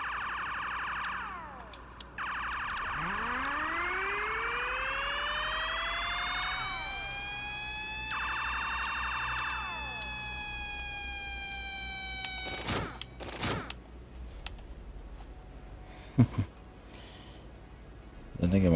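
Electronic emergency vehicle siren in a firefighting simulator game, rising and wailing in long sweeping cycles, steady and loud, then breaking into short bursts and clicks near the end.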